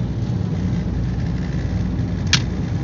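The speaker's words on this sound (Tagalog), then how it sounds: "Daming sasakyan, umagang umaga." Busy morning street traffic rumbles steadily, low vehicle engines idling and passing in a constant wash, with one brief sharp sound near the end.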